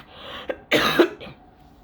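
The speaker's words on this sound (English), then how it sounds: "I'm going to cough in a little bit" A sick man coughs twice, sharp close bursts with a brief catch of breath between them, followed by a fainter throat sound.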